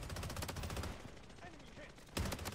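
Rapid automatic gunfire bursts out in the Blood Strike video game, loud and close. It fades to a quieter stretch with faint game sounds, then a fresh burst of shots breaks in near the end.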